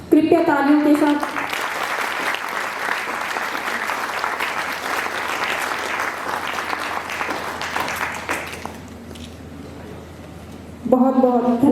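An audience at a district-level philatelic stamp exhibition claps in a sustained round that fades out before speech resumes, and a voice is heard at the start.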